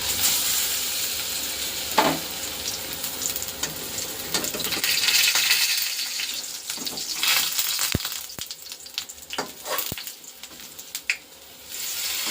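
Bread pakoras coated in thin batter frying in hot oil in a home kitchen, a continuous crackling sizzle with occasional sharp taps and clinks of a utensil, no talk.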